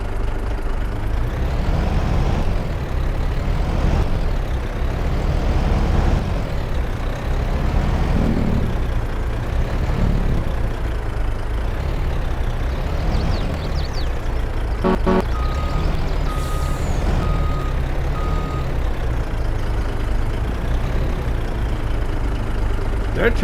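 A truck in Farming Simulator 22 drives with a loud, steady engine drone throughout, then reverses with a short run of evenly spaced beeps partway through, with air brake hisses and faint speech over the engine.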